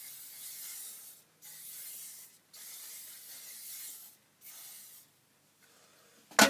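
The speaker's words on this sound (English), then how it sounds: "finish it off with a load of hairspray, scrunching my hair as I go." Several bursts of hairspray hiss close up, each lasting about a second with short pauses between, ending with a brief louder rustle.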